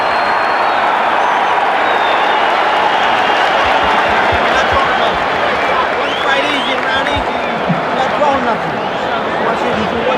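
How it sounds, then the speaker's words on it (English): A boxing arena crowd roars between rounds of a heavyweight fight: a dense, loud wall of cheering and clapping throughout, with a commentator's voice audible over the noise. "The crowd is really juiced up."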